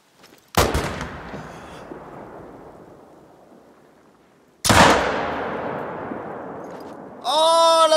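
Two loud rifle shots in a PC hunting game, several seconds apart, each a sharp crack followed by a long rolling echo that fades slowly, then a brief burst of warbling game sound at the end.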